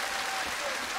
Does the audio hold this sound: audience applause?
yes